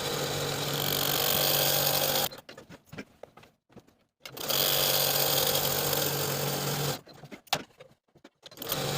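A domestic sewing machine runs a long basting stitch along the edge of a tiered skirt panel, whirring steadily in two sustained bursts, each several seconds long, with quiet handling gaps between them.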